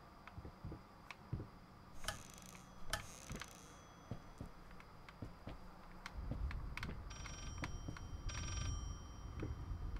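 A telephone rings inside the horror video game Layers of Fear, sounding in a few short bursts of bright, high-pitched ringing over a low droning ambience with scattered ticks and knocks.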